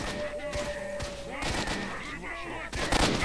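Rapid gunfire crackles through a firefight in S.T.A.L.K.E.R.: Shadow of Chernobyl, dense overlapping shots and thuds close by, with a voice talking over part of it.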